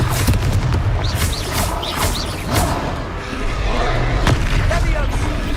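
Confringo explosive spell blast in the Hogwarts Legacy video game during a fight, with loud booming impacts and crackling bursts layered over continuous battle noise and voices.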